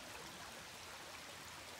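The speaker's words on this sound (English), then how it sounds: "Another peaceful stream side." A woodland stream flows on the way to a waterfall, its steady rushing wash filling the scene evenly at close range with no voices.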